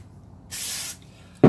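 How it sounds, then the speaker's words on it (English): Brake cleaner is sprayed onto a rag during brake repair work on a Harley-Davidson Dyna Fat Bob, a single close hissing burst of under half a second in a quiet space, followed by a short knock. "So I spray it on a rag and I wipe it on real quick and then wipe it right off again."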